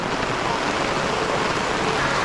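Heavy, steady rain hisses continuously at a campsite, a dense wash of drops close by with no pauses or voices.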